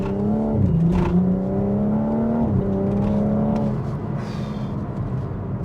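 A modified BMW M135i engine pulls hard under power with a smooth, harmonic tone that climbs steadily, dips briefly at a gear change, then rises again, loud and close, with no talking.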